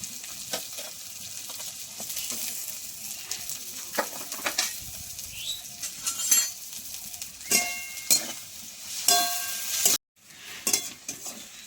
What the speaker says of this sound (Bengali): এবার আমি দিয়ে দেবো এর মধ্যে রসুন কুচি, থেতো করে রাখা আদা, কাঁচা লঙ্কা আর পেঁয়াজ দিয়ে একটু ভালো করে ভাজা ভাজা করে নেব।